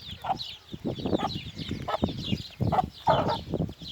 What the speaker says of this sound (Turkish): Bunlar da tavuklarımız arkadaşlar.